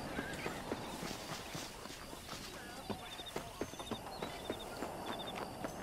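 Horse hooves clip-clop in a steady walking rhythm over a soft outdoor background, moderately close, in the video game Red Dead Redemption.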